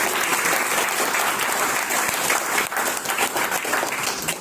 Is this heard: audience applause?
yes